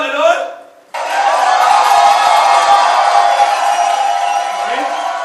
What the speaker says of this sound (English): Cassius, this applause must be for some new honor given to Caesar.